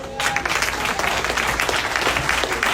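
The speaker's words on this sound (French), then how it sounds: "Applaudissez l'évangile avec le ciel." A church worship crowd at a Haitian Creole praise service applauds in a dense, continuous burst of many hands clapping, loud and sustained throughout.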